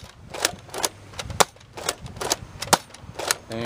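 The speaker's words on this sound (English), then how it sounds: "Now here we go with 10 shots of the long distance darts. I am firing at a slight angle" A Buzz Bee Air Warriors Interceptor toy blaster firing long distance darts, a string of sharp, separate pops spaced roughly every third of a second, loud and close.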